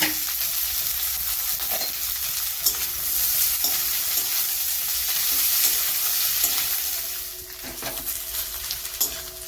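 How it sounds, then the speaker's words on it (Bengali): Chopped onions sizzle in oil while a spoon stirs them toward golden brown for a spicy Bengali chicken kosha. Steady frying crackle runs under repeated scraping strokes against the pan, close and without talk. "এই পেঁয়াজগুলোকে গোল্ডেন ব্রাউন করেই ভাজবো।"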